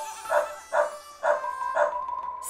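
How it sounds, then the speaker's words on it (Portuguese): A puppy's bark repeats four times at an even pace, bright and cartoon-like, within a children's farm-animal song about a country farm. A light musical backing runs underneath. "Vamos brincar, cachorrinho."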